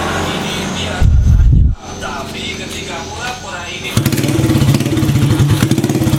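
A motorcycle engine fitted with a new Mascot piston idles and revs close by through an open, loud "grong" exhaust, a rough throb that swells into a steady rapid pulsing, with a person talking over it.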